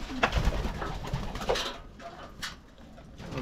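Young pigeons kept apart from the flock coo softly and repeatedly at close range while drinking water dosed with a respiratory medicine, with small rustles and clicks in between.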